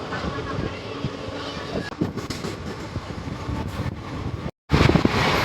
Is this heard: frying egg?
no